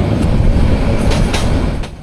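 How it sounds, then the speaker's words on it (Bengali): Meghna Express, the intercity train on the Chittagong–Chandpur route, rolls steadily toward Modhu Road station while slowing, a loud close rumble of wheels and carriage noise that eases slightly near the end. "এই যে আমাদের ট্রেনের গতিকে কমিয়ে ফেলা হয়েছে"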